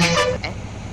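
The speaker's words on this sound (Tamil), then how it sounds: "இதில் ஹார்ன் கொடுத்துருக்காங்களே, ஹார்ன் பார்ப்போம்." Bus horn in a bus simulator game gives a short loud honk at the start, then cuts off, leaving a low engine rumble.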